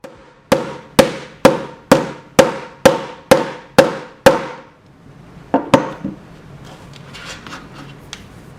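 A hammer strikes a nano screen protector on an iPhone eight times in a steady rhythm, sharp loud cracks, then two more taps followed by faint scraping and rustling.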